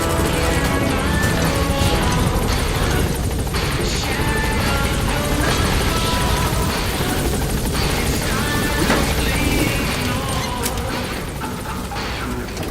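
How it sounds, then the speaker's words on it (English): A video game helicopter's loud, steady rotor thrum and engine whine fill the scene continuously, with occasional crashes and impacts mixed in. "Support helicopter has arrived."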